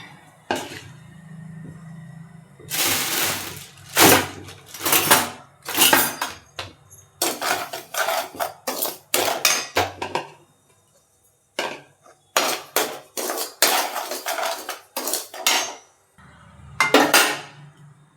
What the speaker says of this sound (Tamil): ஒரு கடாயில் ரவையை போட்டுக்கலாம்